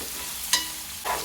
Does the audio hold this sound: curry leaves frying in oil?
yes